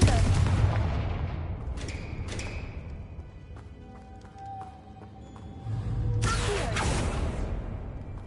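A Confringo fire spell blasts in Hogwarts Legacy, with booming broadband bursts near the start and a loud sustained burst later, over a rumbling game soundscape with faint tonal hums.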